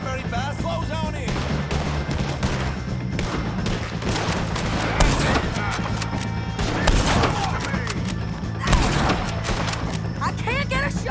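Sustained gunfire in a Red Dead Redemption 2 shootout with O'Driscoll gang members, loud overlapping rifle and pistol shots cracking in rapid irregular bursts, with shouted voices heard among the shots throughout.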